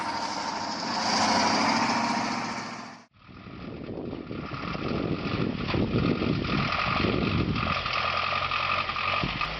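A heavy tractor truck's engine roars as it drives through deep river water, steady and loud throughout, with a brief cut partway where the sound drops out before the engine noise resumes.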